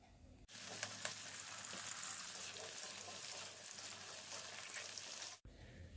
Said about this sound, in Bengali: নুন দিয়ে আলু আর পটলটাকে লালচে করে একটু ভেজে নিচ্ছি